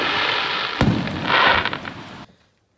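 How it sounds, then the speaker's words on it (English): Fireworks go off on bonfire night, a sharp nearby bang followed by crackling bursts and hissing, loud and outdoors before cutting off. "fireworks going off."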